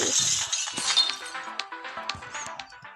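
Glass shattering in the video game Smash Hit: a crash of breaking glass followed by a scattered series of bright clinks and tinkling fragments, fairly close and moderately loud, with no talking.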